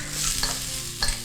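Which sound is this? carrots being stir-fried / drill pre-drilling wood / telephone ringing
carrots being stir-fried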